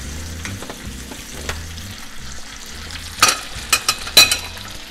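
Beef rump steak sizzles in a pan while foaming, hazelnut-brown butter is spooned over it, giving a steady close fry with several sharp crackling bursts toward the end.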